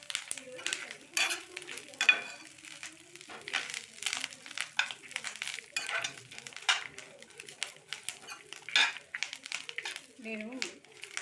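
Sesame seeds and curry leaves fry in a pan with a faint crackle, broken by frequent stirring scrapes and rustles, while someone talks through much of it.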